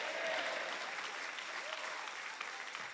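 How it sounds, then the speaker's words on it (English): A church congregation claps their hands together in a dense, steady burst of applause that fills the whole stretch at an even loudness, with no words standing out. "Clap your hands and say amen."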